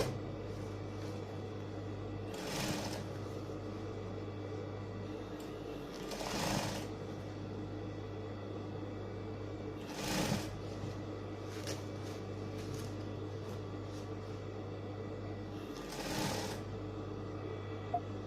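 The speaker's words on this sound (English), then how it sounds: "I'm done top stitching." Sewing machine top stitching a ruffled sleeve lining, a low steady mechanical hum and rapid needle whir running throughout, with a few brief rustles of fabric handling, close but fairly quiet.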